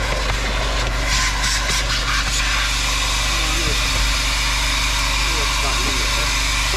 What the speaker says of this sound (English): The steamers do power up quite quickly.